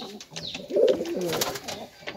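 A pigeon coos softly and closely while feeding its chick, a short rolling coo with a faint background murmur.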